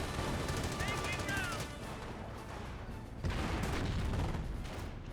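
An M1 anti-tank gun fires in the Company of Heroes strategy game amid a battle, with booming shots and crackling gunfire layered over continuous explosions while a commentator talks over the action.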